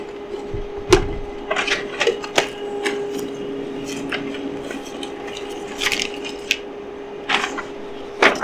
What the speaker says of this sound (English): I'm just going to say print, and it's going to send it over to my laser printer.